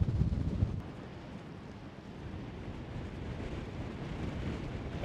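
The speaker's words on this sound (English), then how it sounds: "Wind's a little fast." Strong wind of roughly 25 to 30 miles an hour during quad-line kite flying, a broad, rushing, buffeting roar against the microphone that stays steady and fairly loud, with a heavier gust at the start.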